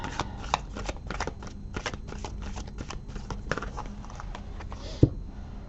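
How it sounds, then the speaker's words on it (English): An Enchanted Map Oracle deck is shuffled by hand, giving quick rapid riffles and soft card taps in close succession, ending with a single sharper knock as a card is pulled. "let me pull an Enchanted Map Oracle card for you"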